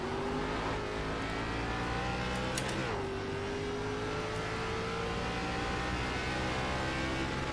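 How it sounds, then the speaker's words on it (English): A race car engine in the iRacing sim, an ARCA stock car on the Homestead road course, revving hard with a steady high whine, then dropping pitch sharply around a shift or lift before climbing again. No talk over it. "Almost over revved it"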